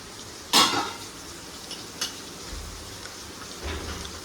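A sharp crackling burst as cumin seeds hit hot oil, then a fizzing sizzle with a utensil tap and low stirring scrapes.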